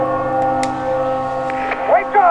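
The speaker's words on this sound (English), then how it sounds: "Where's that church bell?" A church bell in The Walking Dead Survival Instinct video game sounds a steady ringing hum with a few struck tones, fairly close, while a voice talks over the end.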